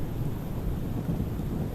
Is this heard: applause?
no